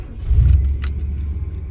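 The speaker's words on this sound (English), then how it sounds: "this is a warm start of a Chevy van G20" A warmed-up Chevy G20 van with a V8 engine starts from inside the cab, giving a low steady rumble with a brief rattle of keys near the start, heard up close and fairly quiet.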